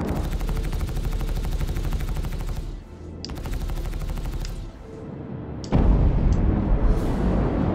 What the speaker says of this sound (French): Oh, ils ont des gros canons.